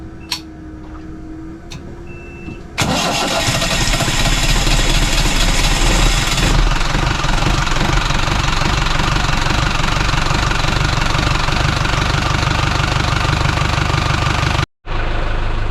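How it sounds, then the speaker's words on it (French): After a few quiet seconds, a boat's diesel engine starts with a loud burst and settles into a steady, rumbling, knocking idle close by. "Alors tout est remonté, nous allons redémarrer le moteur."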